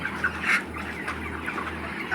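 A flock of sick broiler chickens on a poultry farm clucks and chirps continuously nearby, with overlapping calls and a few louder squawks, no talk.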